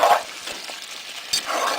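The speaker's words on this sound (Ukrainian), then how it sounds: "Зараз воно класно обжариться." Meat fries in hot oil in a pan for a potato and meat stew, a close, steady sizzle with bursts of crackling and a few stirring scrapes.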